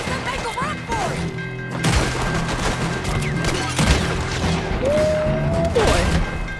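A Red Dead Redemption 2 shootout: heavy, loud, overlapping gunshots and crashing impacts fill the whole stretch, with shouting voices and a bright musical tone cutting through the battle.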